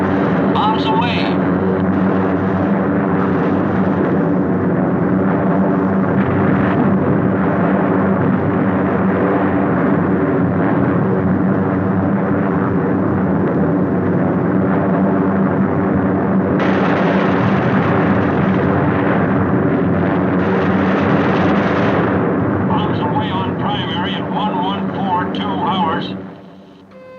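A World War II bombing raid over the Gdynia harbor area, with bombs exploding and aircraft engines droning overhead in a dense, continuous roar that lasts about half a minute, while someone talks over it.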